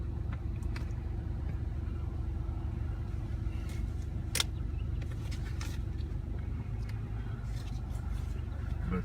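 A line of seven cars idles at a drive-through COVID-19 testing site at Volunteer High School in Church Hill, Tennessee, producing a steady low engine rumble with occasional faint clicks and knocks.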